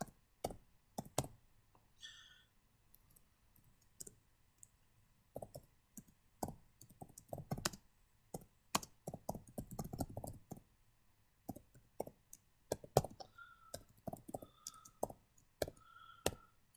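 Java code is typed on a computer keyboard in quiet bursts of close, crisp key clicks, with irregular pauses between runs and a faint chime now and then.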